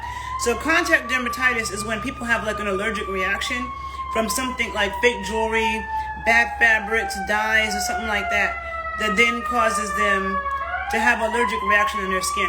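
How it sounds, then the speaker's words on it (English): A loud emergency siren wails outside, its tone sliding up and down steadily through the whole stretch while someone talks continuously over it indoors. "I'm sorry about that loud siren."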